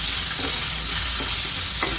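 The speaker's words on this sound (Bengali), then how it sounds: "মাছগুলো ভেজে নিচ্ছি," Snakehead fish pieces fry in a pan with a steady, close, dense sizzle, while a few soft scraping stirs come through at intervals; no one speaks.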